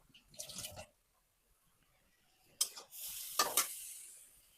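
Water is poured into a cooking pot to boil coconut, heard as a short splashy pour followed by a longer, louder gush with a few clinks, close and fairly quiet.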